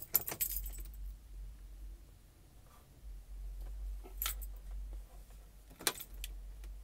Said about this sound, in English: Now I'm going to turn my car on and off.